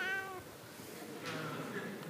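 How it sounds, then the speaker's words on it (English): A recorded cat meow plays from a phone app, with a short meow followed by a second, drawn-out one, both fairly faint in a quiet room. "from a random choice of cat sounds"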